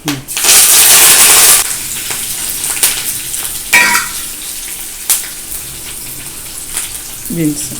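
Ginger, green chili and curry leaves hit a hot pan with a loud burst of frying and spitting oil, which settles into a steady sizzle with occasional stirring clatter.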